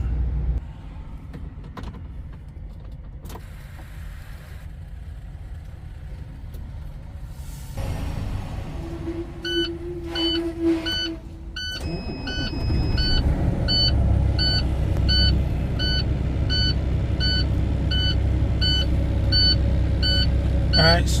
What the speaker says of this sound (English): let me start up a truck and test it out